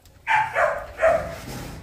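Dogs bark three or four times in quick, uneven succession, fairly close and clear, with a low background murmur between the barks.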